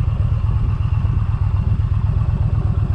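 A Yamaha 950cc V-Twin DragStar motorcycle engine running with a loud, steady, throbbing low rumble, heard up close on its own.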